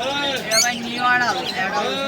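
Busy high chirps and warbling tweets from budgerigars fill the clip at a bird and pigeon market, with a faint murmur of voices in the background.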